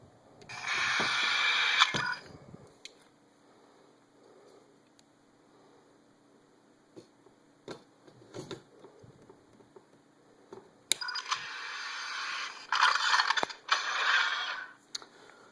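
Mechanical clicks and ratcheting snaps sound as the magazine is worked out of a vintage E-11 blaster prop, with close handling clatter and brief bursts of louder electronic prop noise at the start and end.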